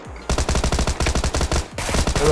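Rapid automatic gunfire in PUBG Lite, a fast steady stream of loud close shots that stops briefly and then resumes.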